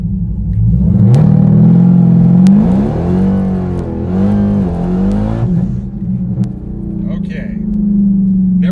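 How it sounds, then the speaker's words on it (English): Dodge Hellcat rated at 1000 hp accelerating hard on a street from a second-gear start, its engine roaring loud and close and climbing in pitch for several seconds before easing back to a steady idle rumble. "we'll start in second gear on the Hellcat"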